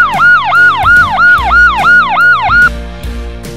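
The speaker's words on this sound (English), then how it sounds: "Police car." A police car siren wails loud and close, its rising-and-falling tone cycling about eight times in quick regular sweeps before cutting off, with no voices.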